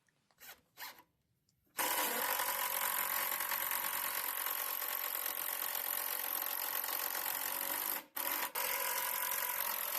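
A power drill drives screws into the wooden stem of a homemade saddle rack, giving one long steady whirring run with brief stops, close and fairly loud with no talking.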